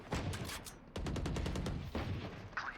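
Rapid video game gunfire in several sustained bursts of close, loud shots, one volley after another with short gaps and no talk.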